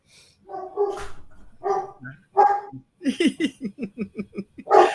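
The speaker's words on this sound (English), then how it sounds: "The dog is saying hello." A dog barking indoors, a rapid run of short, evenly spaced barks after some earlier yips, fairly close and loud, with people talking around it.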